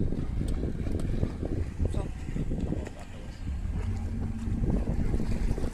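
An RC model boat styled as an Apache runs on the Rhine, its motor whirring steadily with water and wind noise across the clip while someone talks over it.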